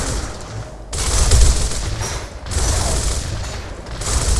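Heavy sustained gunfire from the video game Gears of War, a dense, loud barrage of rapid shots with booming impacts that rolls on continuously with only brief dips.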